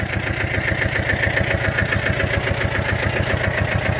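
Pasquali 4x4 motor cultivator with trailer running steadily, a loud, close, even mid-pitched engine drone with rhythmic pulsing and vibration, no talk.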